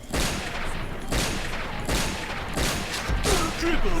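WA2000 sniper rifle firing in the video game Point Blank, a few loud, broadband shot bursts spaced about a second apart over a continuous game background, with no talking.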